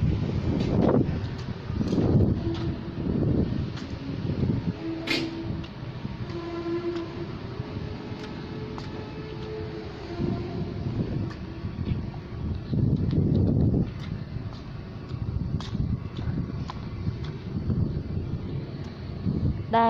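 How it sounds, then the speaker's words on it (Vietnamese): Steady outdoor wind rushing around a production yard and warehouse, a continuous broad roar with gusty swells and buffeting against the microphone, alongside a faint rumble and occasional clanks in the background. "Gió rất là mát."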